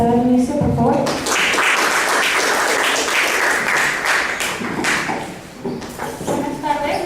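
An audience applauds at a literary colloquium, a dense steady clatter of many hands clapping that builds quickly, holds for several seconds, then thins toward the end as a voice speaks over it.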